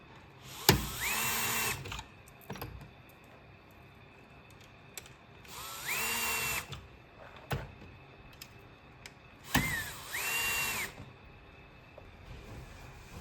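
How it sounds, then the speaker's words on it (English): A power tool tightening bolts during a diffuser replacement, running in three separate bursts with a rising whine, separated by quieter pauses and faint clicks. "tighten the 10 bolts, proceeding in a crosswise pattern."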